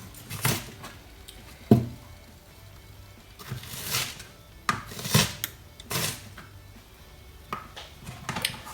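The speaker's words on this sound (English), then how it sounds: "quickly go over it with a knife" A knife rough-chopping an onion on a cutting board gives irregular sharp knocks and taps, close and moderately loud, scattered unevenly across the clip with quiet kitchen background between strikes.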